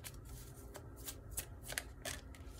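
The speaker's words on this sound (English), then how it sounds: "I'm gonna get one more card from this deck." A deck of cards being shuffled by hand before one is drawn, close and crisp, a quick run of riffling flutters and taps with no talking.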